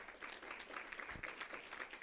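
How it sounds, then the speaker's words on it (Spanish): A church congregation applauds after a Bible reading, a steady dense patter of many hands clapping at moderate distance, with no break through the short span. "Un aplauso a la palabra de Dios"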